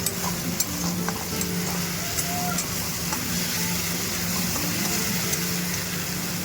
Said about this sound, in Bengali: মশলাটাকে আমরা ভালোভাবে নাড়াচাড়া করে হাই হিটে আমরা ভেজে নেব।